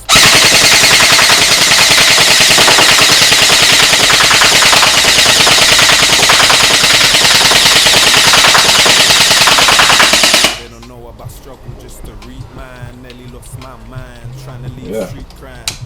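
A G&G CM16 Raider 2.0 airsoft rifle fires continuously and loudly for about ten seconds in a dense stream of shots, then stops abruptly, leaving quieter sounds and a voice.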